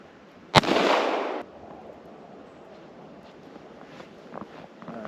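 A single 22 Magnum pistol shot fired with a Speer Gold Dot 40 grain hollow point round: one sharp, loud crack with a short fading tail, followed by quiet ambient background.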